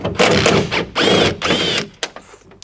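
A ratchet wrench undoing window regulator bolts inside an Isuzu D-Max door, heard as close, loud bursts of rapid clicking in three runs, each separated by brief pauses, followed by a few sharp knocks.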